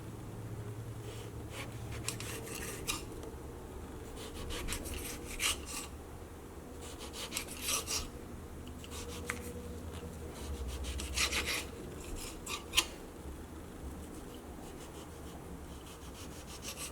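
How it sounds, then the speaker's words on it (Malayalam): A potato is cut lengthwise by hand, giving repeated soft scraping, rasping strokes in irregular bursts, close and quiet against a faint background hum. "ഇനി നമുക്ക് നീളത്തിൽ കട്ട് ചെയ്യാം."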